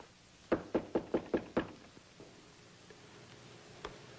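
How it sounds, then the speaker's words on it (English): Six firm knocks on a door in quick even succession, close and loud, followed by near silence and one faint later tap. "Isn't that someone at the door?"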